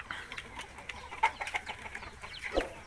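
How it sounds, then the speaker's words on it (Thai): Hens and newly hatched chicks cluck and cheep together in a farm pen, a busy mix of low clucks and thin high peeps at close range. "วันนี้เราจะพามาดูลูกไก่ฟักนะครับ แม่ไก่ปุบปนกันนะครับ"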